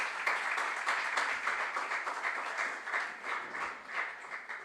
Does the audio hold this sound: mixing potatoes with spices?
no